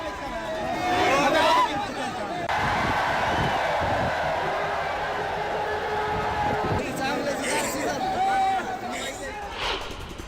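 Crowd of devotees thronging the Bhairavnath fair in Osmanabad, a steady murmur of chatter and bustle with a louder burst near the start and shifting voices throughout.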